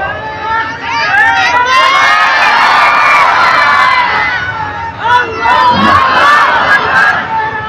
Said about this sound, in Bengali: জোরে স্লোগান দাও।